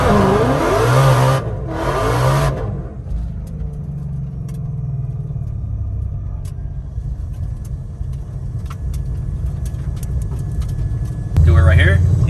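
A 2020 Shelby GT500 built for eight-second drag passes, its engine rumbling loud and close and then surging louder near the end, with voices briefly at the start.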